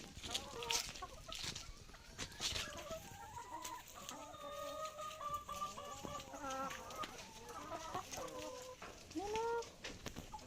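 Chickens cluck and murmur inside a coop while it is being cleaned and some hens lay eggs, with overlapping calls and a few louder squawks throughout, fairly close by.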